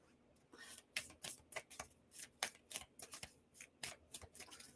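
A deck of playing cards being shuffled by hand during a card reading, a quick series of crisp riffling bursts with short pauses between them, fairly close and soft.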